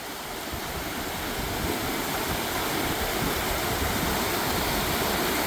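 River water rushing steadily at a trout fishing spot where the current runs deep, a loud, continuous broadband roar heard close with no voices over it.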